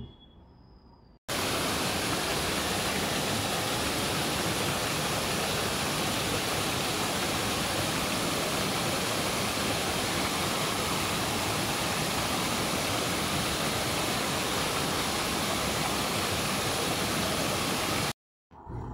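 Baroigaon Waterfall roaring in a steady, dense broadband rush that fills nearly the whole stretch without pause. It starts and stops abruptly, with no voices.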